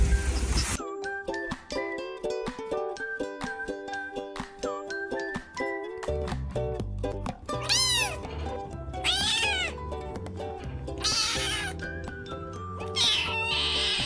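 Several high, rising-and-falling kitten meows ring out one after another, standing above a steady bed of light, tinkly background music.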